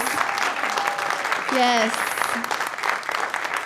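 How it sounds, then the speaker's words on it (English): A church congregation at a Unitarian Universalist Sunday service applauds the children with full, sustained clapping, while a voice calls out briefly and a whoop rises over the hands midway. "Will you please give them a round of applause?"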